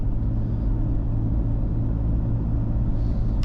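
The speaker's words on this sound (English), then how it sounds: "Not sure if you guys can hear that 4-liter inline 6, but it definitely sounds good" The Jeep Cherokee XJ's 4-liter inline-six rumbles as it climbs hills on a twisty road: a steady, low, muffled drone of engine and road noise with no talking.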